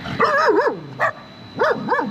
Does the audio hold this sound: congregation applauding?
no